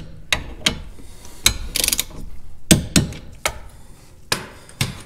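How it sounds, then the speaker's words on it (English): A torque wrench tightening the brake caliper bolts of an IPSCO front big brake kit on a 1996–2002 Dodge Viper, with sharp metallic clicks and clanks spaced irregularly and a short ratcheting burst, close by and without talk. "So now we'll torque these down to our 85 foot-pounds."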